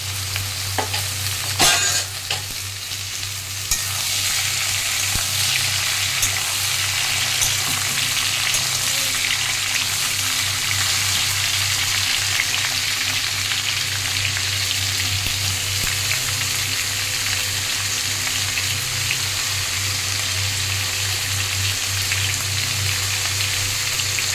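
Sliced cucumbers sizzle and fry steadily in hot oil in a pan, a dense continuous crackle with a few louder spits near the start, close and loud with no talking.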